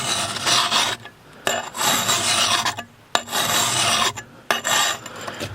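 Hand file rasping across the steel bit of a Husqvarna forest axe to set a flat grind, four loud, gritty strokes of a second or more each, separated by short pauses, close up.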